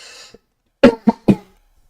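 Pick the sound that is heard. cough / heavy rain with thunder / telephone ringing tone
cough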